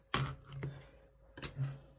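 Keys clack on a Microsoft Bluetooth keyboard, three or four quick, close taps in two short bursts, soft and fairly quiet in a still room.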